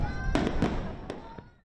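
Fireworks burst over New York at a display celebrating lifted restrictions and honouring health workers, several sharp cracks and booms ringing out over a rumbling background before fading to quiet.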